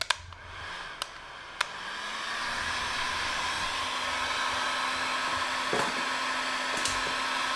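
A heat gun blows hot air onto headlight protection film during installation, a steady rushing whir that starts after a few light taps and runs on alone, fairly close.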